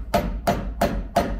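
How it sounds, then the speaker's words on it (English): A hammer strikes the steel lip on the edge of a classic Austin/Rover Mini ball joint nut. Four evenly spaced, sharp metallic blows ring out close up, with no talk. "this lip on the edge needs to be hammered up so the nut can't rewind on itself."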